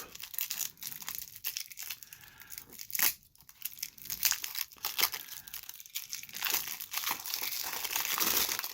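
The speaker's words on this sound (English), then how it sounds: "Will I be defeated by cellophane?" Crinkly, crackling tearing of cellophane wrapping being pulled off a Deadpool vs. the World card game box, continuous and close, with a few sharper rips along the way and no talking.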